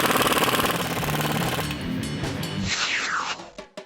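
A power tool runs up the suspension U-bolts on an old truck, giving a loud, rapid mechanical hammering that stops after a couple of seconds and is followed by a few lighter clanks and clicks.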